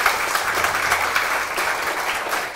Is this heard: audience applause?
yes